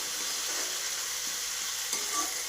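Chopped tomatoes sizzle in hot oil with fried onions for a fish curry, a steady broadband hiss with soft stirring scrapes and a brief louder flare near the end, no talk.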